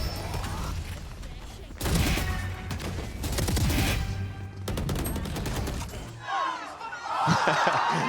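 Gunfire during a pro Valorant match, NRG playing in VCT Americas 2025 Kickoff, comes as bursts of rapid shots mixed with game effects, partly under excited commentary from casters.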